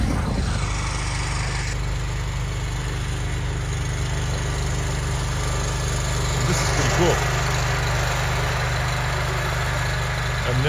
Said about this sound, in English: Look at this guy, a riding mower coming over here